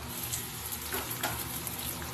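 Onions and potatoes fry in a pan for a Bengali fish curry, a steady close sizzle with faint stirring scrapes, unbroken and with no voices.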